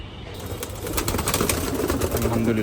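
Kaldom pigeons give soft, low cooing calls close by, a short burst over a steady background hum.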